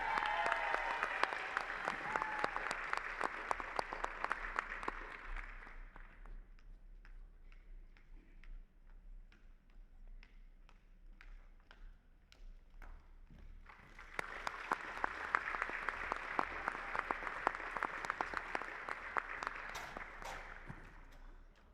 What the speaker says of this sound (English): Big applause again.